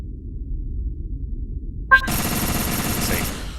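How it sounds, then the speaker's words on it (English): Railgun burst-mode shots in a work-in-progress video game, a sharp crack near the two-second mark that opens into a bright, sustained sizzling rush. A low rumble comes before the shot, and it sounds close and moderately loud. "These slower burst mode railgun shots, they don't have as much power behind them."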